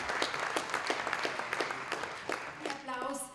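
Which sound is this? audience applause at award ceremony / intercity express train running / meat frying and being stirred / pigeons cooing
audience applause at award ceremony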